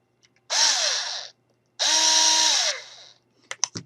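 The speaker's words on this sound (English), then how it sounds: "I am going to drill a little hole right in the center" Two sustained bursts of a power drill whirring up and down in pitch as it drills a small hole through a wooden craft stick, close and loud, separated by a short pause, followed by a few light clicks.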